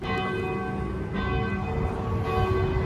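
Church bells ring continuously outdoors, with steady, sustained overlapping tones that stay loud throughout, heard alone without talk.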